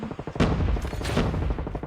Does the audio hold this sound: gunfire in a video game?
yes